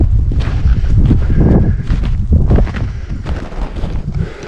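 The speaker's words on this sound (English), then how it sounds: "A little bit windy, snowing pretty good." Gusty wind roars against the microphone on a snowy backcountry winter trail in Algonquin Park, rising and falling in loud buffets, with faint crunching footsteps underneath.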